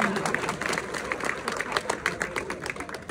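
A crowd at a religious gathering claps in a lively, uneven burst of individual hand claps, fairly close and sustained throughout, with murmuring voices faintly underneath.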